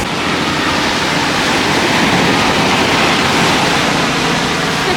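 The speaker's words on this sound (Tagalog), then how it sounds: "Malakas dito yung alon. Ayan kung madidinig nyo." Strong waves crash and roar at Puka Beach on Boracay, a loud, continuous wash of surf with no pauses, close and overwhelming, with no voices over it.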